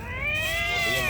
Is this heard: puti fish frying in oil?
no